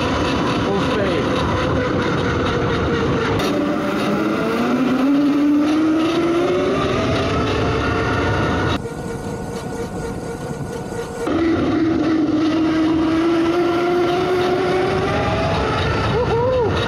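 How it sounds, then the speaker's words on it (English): A homemade electric Big Wheel runs at full speed. Its loud motor whine climbs in pitch over rumbling wheel and wind noise, briefly eases midway, then surges again. "Full speed."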